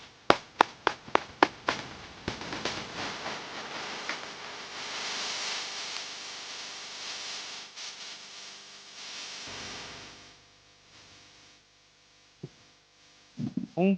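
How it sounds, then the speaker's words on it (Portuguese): Applause for a speaker at a panel on national sovereignty in artificial intelligence: a few sharp, separate claps swell into several seconds of continuous clapping, then thin out to scattered taps and a last burst. "Peço uma salva de palmas também para o Henrique"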